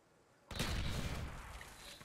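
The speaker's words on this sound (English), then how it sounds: "that's our guy shooting that" A burst of gunfire in Black Ops on the Stadium map cracks in abruptly after a quiet moment and rumbles on with a dense, echoing tail, faint and somewhat distant.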